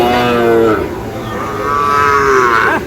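Cattle moo loudly and close by, one long low call followed by another rising bellow, with cattle market noise faintly behind, where Sahiwal breed bulls and calves are sold in Dinajpur.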